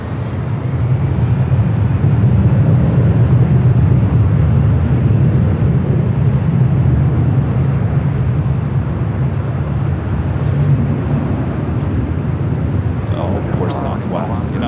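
An Emirates airliner rolls down runway 24 right at LAX, a loud, sustained engine roar and rumble heard from a distance, steady throughout with brief other noises near the end.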